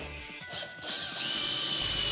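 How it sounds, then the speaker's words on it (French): A power drill bores into a foosball table bar, giving a loud, rising high-pitched whine with ratcheting mechanical grind that builds over about two seconds. "Maintenant, il nous reste à percer la barre."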